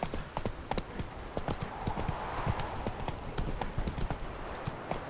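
Horse hooves clip-clop steadily in The Witcher 3, a quick rhythmic gait of hard knocks running the whole stretch, with a faint whinny and ambient game sound behind.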